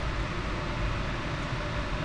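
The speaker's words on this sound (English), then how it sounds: "What you're actually hearing, the noise you're hearing, is this cab is air conditioned." Air conditioning inside a car elevator cab produces a constant low, broadband whoosh and hum, faint and steady with no other sounds over it.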